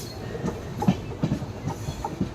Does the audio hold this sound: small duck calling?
no